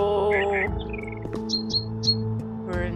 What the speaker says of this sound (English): You can still hear the birds.